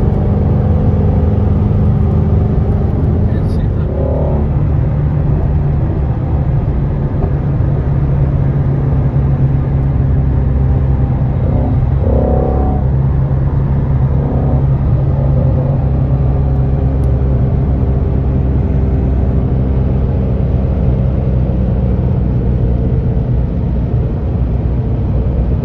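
Shelby Mustangs, including a GT500, GT350 and Bullitt 5.0, cruising through the Las Vegas desert, a steady loud low engine and road rumble with a few faint passing swells.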